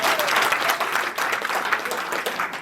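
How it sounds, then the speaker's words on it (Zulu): Audience at a team gala dinner applauding, a dense and even burst of many hands clapping throughout, with no voices over it. "Awushaya ihlombe mawungizwa kahle."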